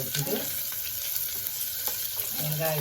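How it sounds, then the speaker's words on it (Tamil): Onions frying in a pan with hot oil, added after whole spices such as aniseed have crackled, giving a steady close sizzle with light stirring and occasional pops. "இதெல்லாம் பொரிஞ்சிட்டு இதில் வெங்காயம் போட்டுக்கலாம்."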